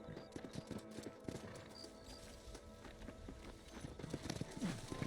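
Horse hooves in the Red Dead Redemption video game clop in an uneven, moderately close rhythm after the rider dismounts, with faint game ambience underneath.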